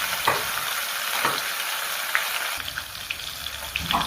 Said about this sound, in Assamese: মাছখিনি এতিয়া নিমখ হালধি মিহলাই ফ্ৰাই কৰিম।